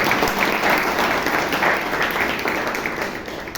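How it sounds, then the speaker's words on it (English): Big round of applause from a Toastmasters club audience, dense hand clapping that starts full and loud, then gradually thins and fades over a few seconds. "Please give them a big round of applause."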